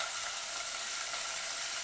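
Onion-coconut masala paste sautés in hot ghee with ginger-garlic paste for a village-style dry chicken, a continuous bright, even sizzle close by with no pauses.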